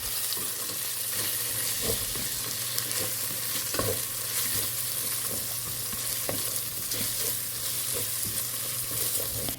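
Green chillies, mint and coriander leaves sautéing in ginger-garlic paste for prawn biryani give a steady, close sizzle throughout, with occasional stirring scrapes and taps of a spoon against the pan.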